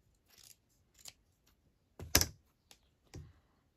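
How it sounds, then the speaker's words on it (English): Good fabric scissors snip through fabric for an appliqué journal cover, giving about five separate crisp cuts, with the loudest one near the middle, close-up and clear against near silence. "you have to have good scissors, and I'm just, the fabric is turning"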